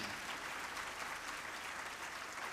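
A large crowd at the Gyan Ganga Mahotsav gathering in Nashik claps steadily and fairly loudly, a dense, even wash of applause with no pauses.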